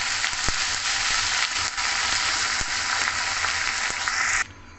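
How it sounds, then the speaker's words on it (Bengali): Neem leaves fry in hot oil with a pinch of salt for a crispy potato dish, giving a dense, even sizzle with a few faint ticks, close and loud, then abruptly cut off. "এবার এটাকে আমি ভালো করে ভেজে নেব"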